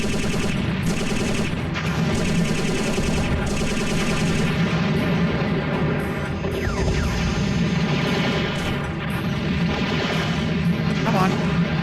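Rapid mechanical weapon fire from the mecha game Robotech: Battlecry rattles continuously in sustained loud bursts with metallic clanking, layered under game effects and someone talking.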